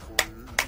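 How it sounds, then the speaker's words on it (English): Two crisp handclaps a little under half a second apart, close and dry, with quiet background in between. "If you're happy and you know it, clap your hands."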